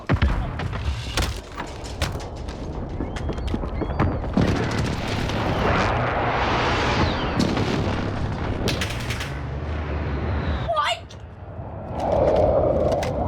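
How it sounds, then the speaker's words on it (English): Explosions from a precision airstrike in the video game Call of Duty, heavy booms and rumbling blasts rolling through a dense, loud stretch of gunfire and battle noise. "Enemy precision airstrike inbound."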